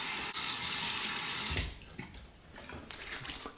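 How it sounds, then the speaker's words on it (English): Tap water runs into a sink to rinse single edge safety razors after a shave, a steady close faucet stream that briefly splashes, then breaks up and continues more softly with intermittent splashing. "Now rinse off the razors and then a cold water rinse to the face."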